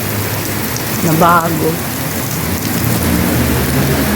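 Heavy rain pours steadily on surfaces outdoors, a dense continuous hiss with a low rumble of thunder underneath, while a voice speaks briefly over it.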